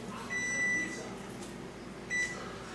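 A kitchen timer sounds two separate electronic beeps, a longer tone then a shorter one, fairly clear over quiet kitchen room noise.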